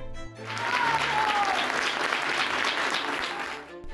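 Workers protesting inside the Supreme Court building break into applause, a dense swell of clapping that rises quickly, holds loud for several seconds and then tapers off.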